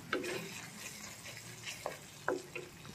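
Spices frying in oil over a low flame, a soft steady sizzle broken by a few faint stirring clinks, close and fairly quiet with no talk.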